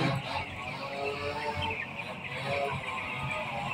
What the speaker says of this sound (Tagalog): Healthy mga ka-vlogger ang ating mga alagang manok.